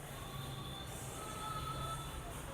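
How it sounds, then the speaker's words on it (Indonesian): An odong-odong street ride train passes by on a street, a faint, distant rolling hum with high squealing tones carried on background street noise, no voices. "Ada odong-odong kereta odong-odong lewat"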